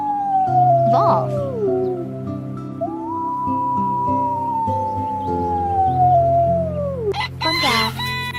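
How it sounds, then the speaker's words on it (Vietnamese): A wolf howls: a short rising call, then a long drawn-out howl that slides slowly downward for several seconds, loud and near over a low steady background, ending in a brief noisy burst. "Wolf."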